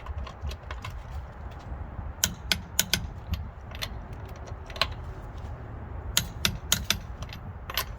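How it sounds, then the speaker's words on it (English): Lug nuts on a Nissan Altima wheel are tightened with a torque wrench in a star pattern: a run of sharp metallic clicks and ratcheting taps, some in quick clusters, close by over a low background hum. "You can now torque the lug nuts down to 83 foot-pounds."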